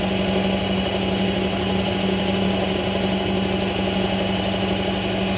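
A machine cuts metal while a carbide insert tool holder is being made: a loud, steady, close mechanical hum with a constant droning tone and faint grinding texture throughout.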